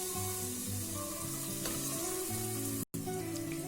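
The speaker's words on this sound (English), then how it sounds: "Stir it up and cook it up for a few minutes to get the raw smell out of the ginger garlic paste" Ginger garlic paste with turmeric fries in a pan while being stirred, a soft continuous sizzle heard faintly under steady background music, with one brief dropout.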